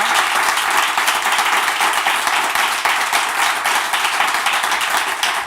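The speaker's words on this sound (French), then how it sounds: "On peut s'applaudir très fort." A church congregation applauds loudly and steadily after a closing prayer, a dense, sustained wash of many hands clapping close by with no talk over it.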